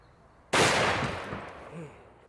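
A single loud gunshot fired at a cash machine on a ranch cracks suddenly and then rolls off in a decaying echo, with a faint voice murmuring afterward.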